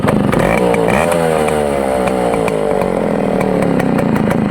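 Suzuki Max 100 R motorcycle's single-cylinder engine running steadily after a kick start, a loud, continuous buzzing two-stroke idle with rapid, even firing pulses, close to the listener.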